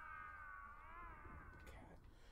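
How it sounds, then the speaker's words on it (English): A cat in the video game Layers of Fear meows in a long, wavering, drawn-out cry over a noisy low background, with a few faint clicks near the end. "It's probably just a cat."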